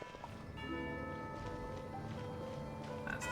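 A bell in the Genshin Impact video game rings with sustained tonal overtones, heard faintly under soft game ambience with light rhythmic clopping and no talk.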